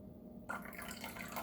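Liquid pours slowly into a slime mixture while it is stirred, giving a soft, close, bubbling trickle that starts abruptly and keeps gurgling gently over a quiet background.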